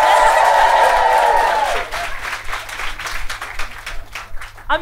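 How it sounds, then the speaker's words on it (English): Audience applause at a live comedy podcast recording: a loud, dense burst of clapping for nearly two seconds that then thins into scattered claps and murmuring crowd noise. "Give me a round of applause if you're not from Leeds or close by"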